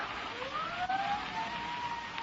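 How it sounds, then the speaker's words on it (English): Emergency sirens wail in a 1953 radio crime drama, wavering tones rising and falling at moderate distance over a low rumble of traffic, with no voices heard. "Sirens. Can't you hear them?"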